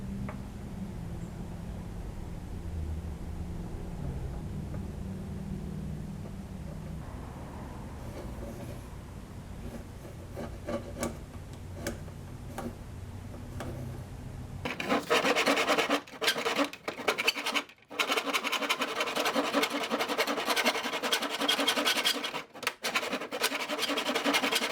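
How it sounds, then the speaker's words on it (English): A wooden fretboard for a cigar box guitar being cut at an angle, first as a quiet rhythmic rasping, then a much louder continuous sawing grind in the second half with brief pauses. "we will get started on cutting the angle in the fretboard and then"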